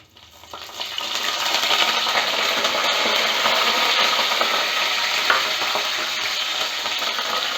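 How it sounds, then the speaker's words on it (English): Curry leaves sizzle in hot oil with popping mustard seeds while dal tempering is made, a steady, loud broadband frying crackle that starts abruptly and continues evenly throughout. "I'm just adding up the curry leaves."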